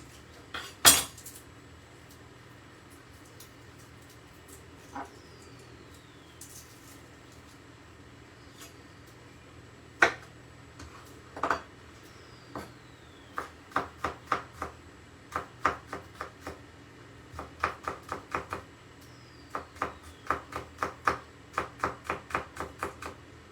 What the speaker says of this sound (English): Just crushing them, taking off the skins.